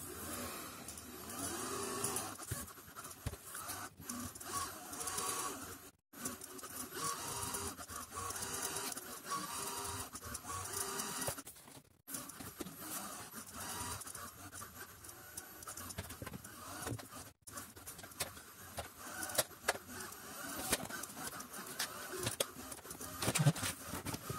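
A Xiaomi Viomi VXRS01 robot vacuum's small motor whirs steadily up close while its wheels roll and scrape, the mechanical hum cutting out briefly a few times.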